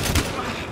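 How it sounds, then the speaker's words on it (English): A shotgun fires in the Battlefield: Hardline video game, a heavy boom with a thud in a short burst of game combat. Speech is mixed in around the blast. "Shotgun battle, you want a shotgun battle?"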